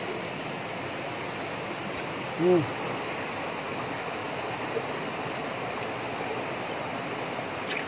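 A cleared spring pours water in a strong, steady, close-up rush that holds its level throughout, with a brief low thump partway through.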